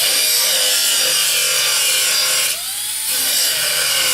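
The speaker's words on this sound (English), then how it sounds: "There it goes, that belt, but I think we got through." A belt grinder bites through a spot weld in sheet metal with a loud, steady high-pitched grinding roar that dips briefly as the belt gives out, then resumes, with no talking.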